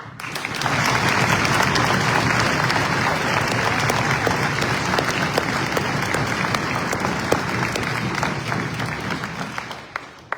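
A large crowd applauds veterans steadily for about ten seconds at a Washington State Patriotic Day event, a dense wash of clapping that fades out at the end.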